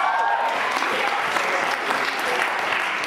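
Audience at a celebration of unity and song gives a big round of applause, a dense, even wash of clapping from many hands, loud and sustained with a few louder claps poking through.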